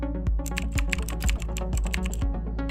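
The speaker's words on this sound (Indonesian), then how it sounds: "Tinggal ketik ulang saja password Mac kamu dengan benar," A password is typed on a Mac keyboard, crisp key clicks landing in a quick uneven run close to the microphone, with no talking.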